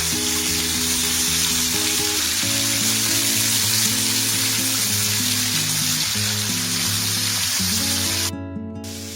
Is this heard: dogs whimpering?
no